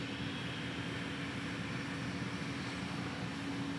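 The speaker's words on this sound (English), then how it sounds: "we've got this Velocity 737 or Virgin 737 coming through" A Virgin Australia Boeing 737 airliner passes at Gold Coast Airport in heavy rain, a steady broad jet roar with a faint tonal whine, no voices.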